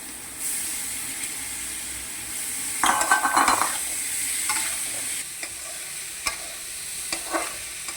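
Dried fish with garlic paste, turmeric and red chili fries in raw mustard oil in a pan, a steady close sizzle broken by bursts of stirring and scraping and occasional sharp clinks of a utensil against the pan.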